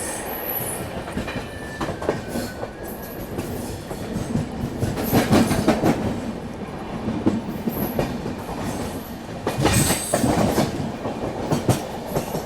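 The Mumbai-Hapa Duronto express runs at speed past Surat station, with a steady, loud rumble and clickety-clack from the wheels on the rails. Brief brighter metallic squeals rise now and then. No one speaks.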